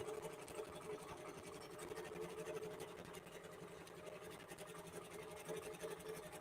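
A QBOT computerized quilting machine stitching an edge-to-edge quilt, a steady quiet mechanical whir with a fine rapid pulsing, continuous and unbroken.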